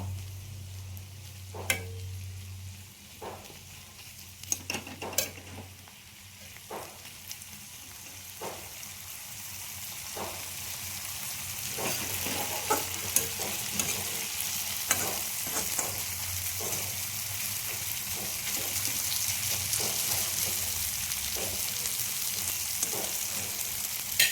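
Fish belly dry-frying in its own fish oil, a steady sizzle and crackle building gradually louder with occasional sharp clinks of a utensil stirring in the pan, no talking.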